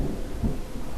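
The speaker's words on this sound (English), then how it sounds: "Holy thunder." A deep rolling rumble of thunder from the video game Star Stable, a steady low roar that swells briefly midway, heard alone with no talking.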